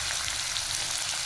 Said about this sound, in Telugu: కరివేపాకు, ఉల్లిపాయలు వేగిదాకా ఒకసారి కలిపేసుకుంటే